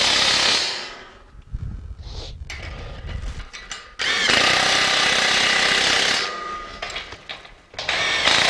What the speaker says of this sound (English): We have an impact wrench, but you might only have a socket, which is fine.